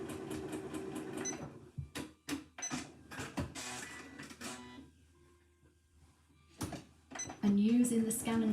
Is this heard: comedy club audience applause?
no